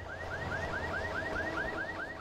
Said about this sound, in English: I hear a car alarm.